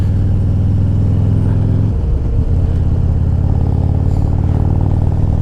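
Harley-Davidson Road Glide Special engine fitted with a Star 30/30 racing cam, a loud, deep, steady idle with a shift in tone partway, continuous and close.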